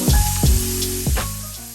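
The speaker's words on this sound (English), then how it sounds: "now I'm going in with my shrimp" Shrimp go into a hot pan and sizzle loudly, a bright hiss with a few sharp thuds and spits as the pieces land, up close and alone.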